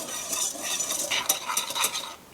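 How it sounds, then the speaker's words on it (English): A cornstarch mixture is whisked in a bowl, giving a quick rhythmic scraping and tapping of the whisk against the sides in short bursts, close and with no talk. "We're gonna whisk that together just to get some of those clumps out of the cornstarch."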